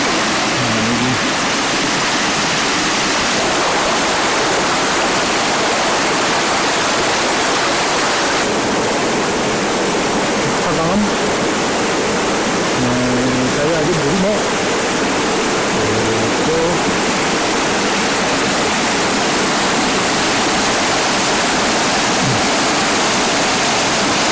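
A waterfall at Donggang, Pyeongchang pours in a steady, broad roar of rushing water that fills the whole span without letup, with a few faint voices briefly audible beneath it.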